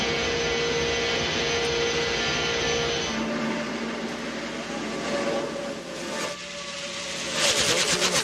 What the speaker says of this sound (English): Listen to that engine, it stays the same all the way around the racetrack.